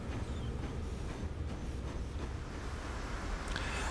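A train and a cargo tram hauling wood move through a rail station in the Transport Fever 2 video game, giving a steady, low rolling rumble with faint rail clatter and no talk.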